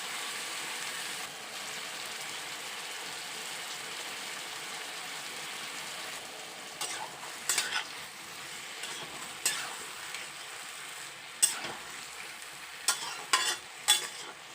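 Mixed vegetables and black cumin stir-fried in a wok, a steady soft sizzle with occasional scraping stirs growing more frequent toward the end, close and alone.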